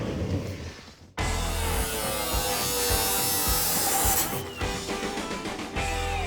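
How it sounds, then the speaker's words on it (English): A power tool cuts car sheet metal near a chassis, giving a loud continuous buzzing, grinding whine that drops out briefly and then resumes, close up with no talking. "We're cutting more sheet metal."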